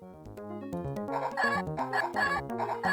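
Cartoonish chicken clucking in the Gobliins 2 video game, a run of rapid squawky clucks building in loudness over a plucky musical background, with no talking.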